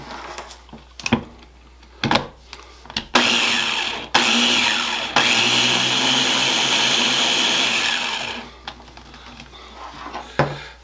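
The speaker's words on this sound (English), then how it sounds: "we're just going to pulse this until it's all mixed together" A food processor pulses flour, salt and sugar: short whirring bursts, then a long sustained run of several seconds, then brief taps and clunks as it winds down, loud and close.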